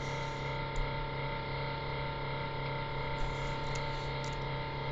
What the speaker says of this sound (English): I'm sorry about the fan in the background